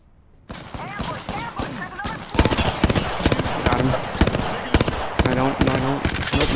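Gunfire in Apex Legends, dense rapid bursts of automatic shots, loud and close, continuing throughout with talking over them.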